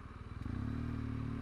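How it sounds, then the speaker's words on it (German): An engine approaches on the Riedbergpass road as the tractor draws near, a loud, steady, low chugging throb that grows slightly stronger over a second and a half. "Und ein Trecker kommt auch noch."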